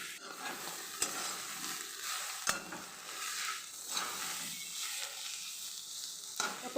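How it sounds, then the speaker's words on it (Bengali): A pan of ash gourd tendrils and eggs stir-fries, with a continuous soft sizzle and spatula scrapes, plus a few sharp taps against the pan, close and fairly quiet. "আমি এইভাবেই ভালো করে 2 মিনিট ধরে ভেজে নেব।"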